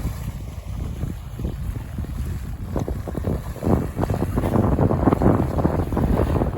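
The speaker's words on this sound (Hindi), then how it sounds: "हवा जी है ना वो बहुत ज़बरदस्त चली रही है ठंडी ठंडी" Strong, cold wind buffets the microphone at a bridge construction site beside open water, a continuous low roaring rumble with stronger gusts toward the end and no voices.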